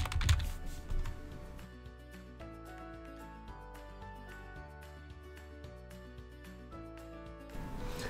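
Typing on a computer keyboard in Visio's search box: a steady run of close, crisp key clicks with a few louder taps, no voices.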